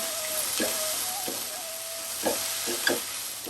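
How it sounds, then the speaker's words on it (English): Onions sizzle and fry in a pan while a spoon stirs them, giving a steady close hiss broken by a few soft scraping stirs and light clinks, with no talking. "So I have let the onions sweat for a minute."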